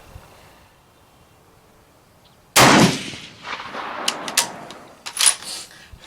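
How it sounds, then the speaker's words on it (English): One loud, close rifle shot from a Lencac SC 1903A4 at an outdoor range cracks out after a quiet lead-in, followed by a fading echo and some light clicks and handling noises. "Let's take a second shot, see where it goes."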